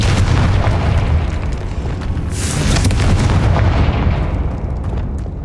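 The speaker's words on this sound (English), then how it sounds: "Confringo!" Confringo fire-blast spell explosion in the video game Hogwarts Legacy: a loud, dense booming burst with crackling debris that sustains across several seconds, a sharp hissing flare in the middle, and no talk.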